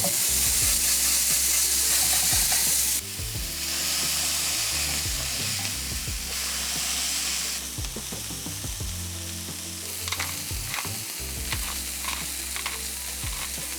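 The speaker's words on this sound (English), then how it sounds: "Here we have our 80-20 ground beef patties. I'm gonna go ahead and cook them off while we're waiting for the sauce." 80-20 ground beef patties seasoned with salt and pepper fry in a pan with a steady loud sizzle, broken by occasional scraping and stirring clatter, alone with no voices.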